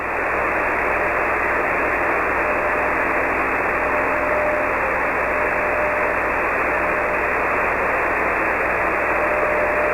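A 1.3 GHz radio receiver puts out a steady, loud hiss of band-limited noise with a faint constant tone running through it, unchanging for the full ten seconds.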